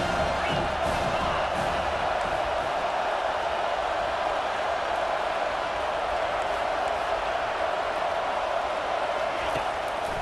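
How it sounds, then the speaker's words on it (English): A football stadium crowd roars and cheers at an Arkansas versus Florida college game, a steady, dense wall of voices and shouts that holds at full intensity throughout, broad and distant rather than close. "This crowd knows when to bring it."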